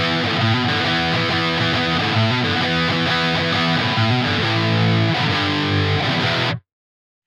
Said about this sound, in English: And the second tone is the metalcore master tone,